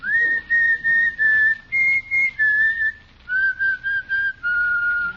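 A person whistles a melody on a 1949 radio comedy broadcast, clear, bright phrases broken by short breaths and a brief pause midway, close and solo with no accompaniment.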